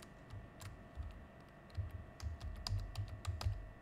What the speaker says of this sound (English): Let me just type gmail.com.